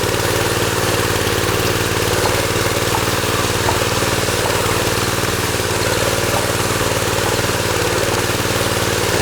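A concrete power trowel machine with a CVT clutch runs steadily at close range. Its loud engine drone and blade rumble hold a constant level throughout, with no voices.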